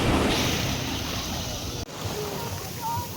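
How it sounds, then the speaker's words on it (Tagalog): Steady roar of strong surf and wind-blown water at a beach in San Antonio, Zambales, with a brief dip midway and faint distant sounds over the constant wash. "Masyado malakas yung alon."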